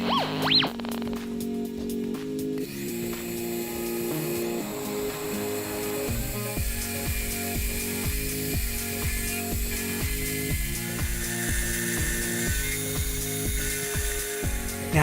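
A metal milling machine cuts away the bulk of the waste stock for a dovetail joint, a close, rhythmic chattering whir that pulses steadily for the whole stretch with no talking.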